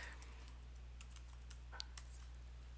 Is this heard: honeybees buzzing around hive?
no